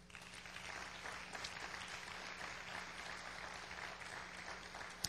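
Church congregation applauding the Lord during a sermon, a dense, even patter of clapping hands that carries on for several seconds, with a steady low hum beneath and a sharp clap near the end.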